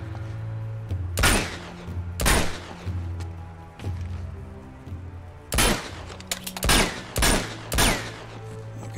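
Gunfire in the Uncharted 2 video game, set in war-torn Nepal: several loud, sharp shots come in irregular bursts over a low background hum, with no talking.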